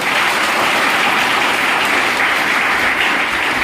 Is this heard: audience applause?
yes